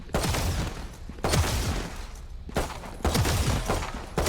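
Gunfire from the video game Valorant: three long, loud bursts of rapid shots, each lasting about a second or more, separated by short gaps, with no talking.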